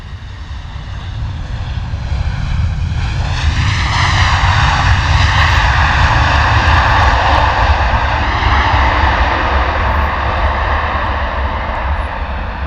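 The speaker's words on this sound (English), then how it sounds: "Love how loud these Ryanair Boeing 737s are on the reverses." A Ryanair Boeing 737 landing at London Luton Airport with thrust reversers deployed, giving a loud, sustained roaring jet rumble that swells after a few seconds and holds steady, heard close with no talking.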